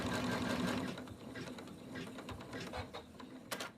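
An embroidery machine stitches a center line across fabric held in a hoop, a steady close mechanical whir with rapid needle clatter and a few brief clicks near the end.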